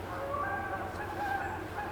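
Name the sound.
Canada geese calling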